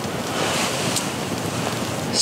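Broadband wind roaring and rushing outside a tepee tent in below-freezing weather, steady and loud with gusty surges, no voices.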